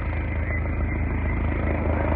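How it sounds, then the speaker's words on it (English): A helicopter flies over at night about 250 feet up, a loud, steady thudding rotor drone with engine roar filling the air continuously and no voices. "The helicopter,"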